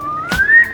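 A talking bird at Zoo Miami makes a quick kissing smack, followed by a clear, close, rising whistle that lasts under a second.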